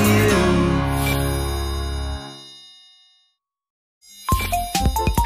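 A phone ringtone for an incoming call plays as bright ringing chimes that sustain and decay into silence, then resume with a quick run of jingling tones.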